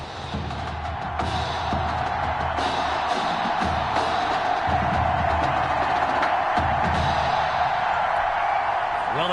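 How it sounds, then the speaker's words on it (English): Stadium crowd in the Madden 21 football video game roars in a loud, continuous wash of cheering and noise, with a commentator's voice talking over it. "Well, the crowd is loud and on its feet as Ricky Sutherland gets things started."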